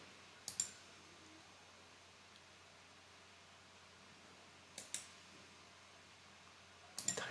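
Three sharp mouse clicks spaced apart, at about half a second, near five seconds and near seven seconds, while working in AutoCAD 2023 tool palettes in a quiet room with faint background hiss.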